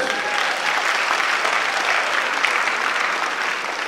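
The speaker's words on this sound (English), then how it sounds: "let's give them a round of applause." Steady, dense applause from a concert audience at a New Year's Day show, loud and sustained throughout with no break.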